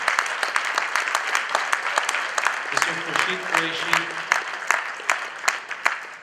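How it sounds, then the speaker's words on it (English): Applause from an audience at an event honoring Mr. Khurshid Qureshi, steady dense clapping throughout with a voice speaking briefly over it near the middle. "Please give an even bigger round of applause to the reason we're all here today."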